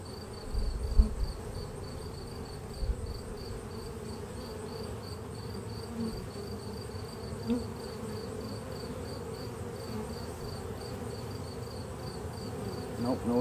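Honey bees swarm around an open hive during an inspection, giving a steady, continuous buzz that holds at an even, moderate level throughout with only a few brief louder passes.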